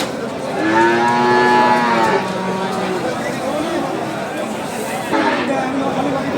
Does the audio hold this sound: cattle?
yes